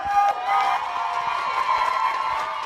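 Crowd cheering and clapping at a Thai press launch event as the CEO of Miss Grand International is welcomed onstage, a steady dense roar of applause and shouts throughout, fairly loud and continuous.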